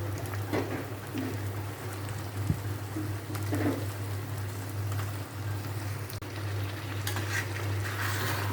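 Chicken pieces frying in a pan with masala, a soft continuous sizzle under a steady low hum, with occasional faint stirring scrapes.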